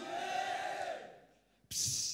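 Crowd of yeshiva high school students at a graduation ceremony roaring the "Harbu Darbu" chant in a loud, brief burst that cuts in sharply after a quieter stretch of voices.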